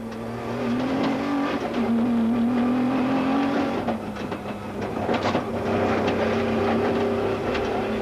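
Rally race cars, a Nissan among them, roaring past one after another during the Lichtenburg 400 off-road race in 2001, engine tones rising and falling with a steady loud rush and no talk.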